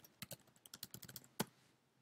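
Rapid keystrokes on a computer keyboard while a forum reply is typed, a quick uneven run of close, crisp clicks ending in one heavier tap, with no talking.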